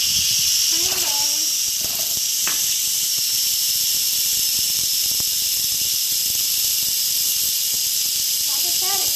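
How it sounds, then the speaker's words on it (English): Steam hisses loudly and steadily from an Instant Pot pressure cooker during a quick release after cooking meat sauce, a constant close rush under brief bits of talking at the start and end. "My pressure cooker has beat for my sauce, and I'm going to do a quick release"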